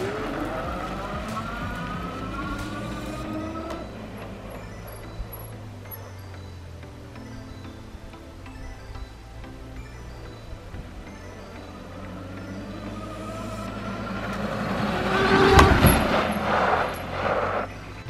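A Rad Power Bikes RadRunner electric bike runs on throttle, its motor whine rising and falling steadily, with a swelling rush of wind and road noise building louder toward the end.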